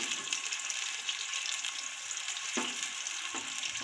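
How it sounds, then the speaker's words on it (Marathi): Chopped onion frying in hot oil for vegetable pulav, a steady close sizzle with occasional light stirring clicks, no voice over it. "आता कांदा आपण थोडासा भाजून घेऊया त्याला।"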